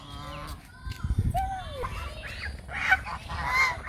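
Ducks give loud honking calls in short bursts close by, with a voice briefly heard.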